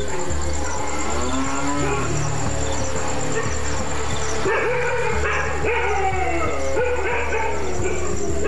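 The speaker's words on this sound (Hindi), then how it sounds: "कुत्ते शेरों को देखते ही भौंक भौंक कर पूरे गांव को खबरदार कर सकते हैं" Village dogs bark in short, scattered yelps at a distance while cattle low through a continuous rural background, with the barking intermittent and partly masked by the mooing.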